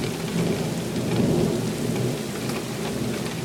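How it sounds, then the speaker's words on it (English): Steady heavy rain pours during a thunderstorm, close and loud near an open window, with a low rumble of thunder rolling underneath throughout. "I'm getting wet from the rain that's coming in this window"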